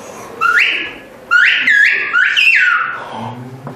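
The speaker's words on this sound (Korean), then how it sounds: "소리 나는 음대로 말할 수 있다는 휘파람 언어 안녕하세요를 부탁해봤습니다" A person whistles a greeting in Turkish whistled language: several clear, piercing sliding whistle phrases in short bursts, close and loud, with faint background sound between them.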